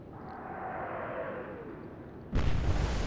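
Naval guns fire in the Atlantic Fleet game, a single sudden heavy blast near the end breaking over a low rumbling background with a faint falling whistle before it.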